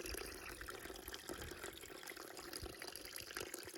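Trail water is filtered through a Sawyer Squeeze into a Smart Water bottle, a steady soft trickle and splash of flowing water, faint and close with no speech.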